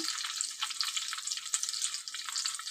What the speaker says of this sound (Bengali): চলো বেশ সুন্দর করে ভেজে নিই।